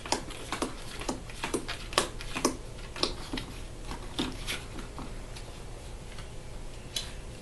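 Gloomhaven archer monster ability cards are shuffled by hand on a table, producing a steady run of crisp riffling taps and clicks, close up with no talking.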